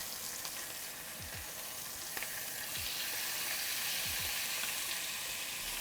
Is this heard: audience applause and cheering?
no